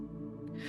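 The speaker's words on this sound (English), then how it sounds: "Take a nice deep breath." A single slow, soft inhalation close to the microphone during a calming guided meditation, rising airy breath over a low steady hum.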